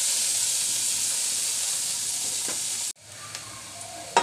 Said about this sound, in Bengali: এবার দিয়ে দিচ্ছি আমি পেঁয়াজ কলি